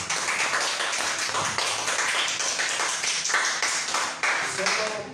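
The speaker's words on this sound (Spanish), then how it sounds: "Denle una ofrenda de aplauso al Señor." A church congregation claps together during a Spanish-language service, rhythmic hand clapping filling the room with a voice speaking over it throughout.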